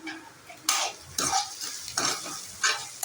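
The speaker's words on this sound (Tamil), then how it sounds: "வெங்காயம் நல்லா வதங்கிடுச்சு" Onions, green chillies and curry leaves sautéing in a pan for Tamil tomato rice, heard as a soft frying sizzle broken by several scraping stirs of a spatula against the pan, close up with no talk.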